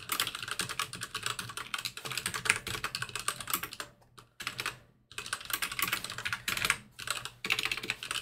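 Fast, continuous clatter of keys on a computer keyboard while code is typed, close and crisp, with two brief pauses in the middle.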